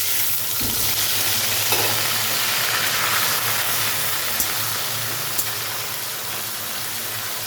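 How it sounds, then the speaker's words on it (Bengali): Ginger and cumin paste hits hot oil with whole garam masala and bay leaf for dhokar dalna, a loud, continuous close-up sizzle with occasional light stirring clicks. "এখানে গোটা গরম মশলা তেজপাতা দিয়েছি এখানে দিয়ে দিচ্ছি আদা আর জিরে বাটা"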